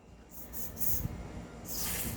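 Gas sprayed into the valve of an upgraded Tokyo Marui spec airsoft magazine, a couple of short quiet hissing bursts separated by a brief pause, close and faint.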